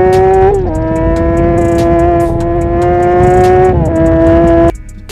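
Suzuki GSX-R sport motorcycle with an aftermarket silencer and catalysts but no full exhaust system, revving steadily with a strong harmonic drone that rises slightly, dips around a gear blip, then cuts off near the end; loud and close, no talk.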